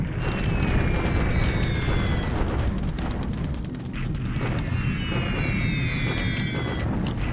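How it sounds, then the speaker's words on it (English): Continuous bombing explosions in a WWII strategy video game rumble as a loud, dense wall of low booms, with faint descending whistles sliding over the barrage before it swells again. "Lots of bombing."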